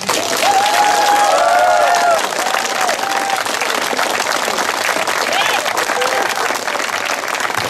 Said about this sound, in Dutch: Allereerst wil ik een enorm applaus voor deze helden.